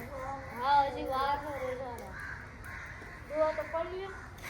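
Several crows caw in harsh, repeated bursts, fairly close, with a pause in the middle before more calls break out.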